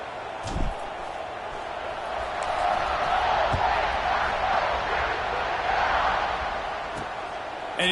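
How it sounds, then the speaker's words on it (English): Football stadium crowd buzzes as a team lines up to kick off after a score, a broad sustained murmur that swells and fades, with a thud or two and a voice faintly over it. "this crowd is buzzing after that last score"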